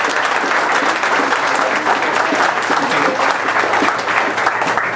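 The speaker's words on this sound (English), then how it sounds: "Just give a round of applause and recognition for the awesome work on the show this evening." Dense, steady audience applause at an evening arts event and Art Walk, recognising student artwork, a crowd clapping loudly and evenly throughout without pause.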